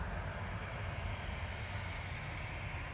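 Lufthansa CityLine Airbus A319 jet at Manchester Airport, a steady, broadband engine roar that holds at an even, moderate level throughout with no pauses, heard from some distance.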